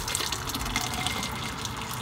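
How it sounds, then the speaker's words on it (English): Water is poured from a filled kettle into another jug inside a campervan, a steady, close trickle and splash that runs without pause under faint background noise. "So I've had to pour the water that Lee filled up into a another jug."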